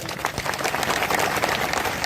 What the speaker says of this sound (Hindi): आप उन तमाम आयोजक और नियोजन करने वाले लोगों के लिए जोरदार तालियां बजाओ।